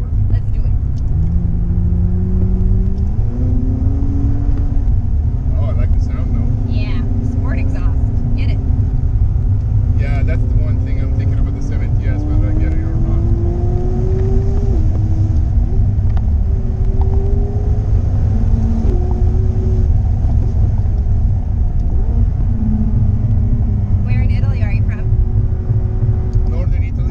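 A McLaren 570S Spider engine in sport mode runs steadily and loud close by, its harmonics rising and falling as revs shift, while people talk over it throughout.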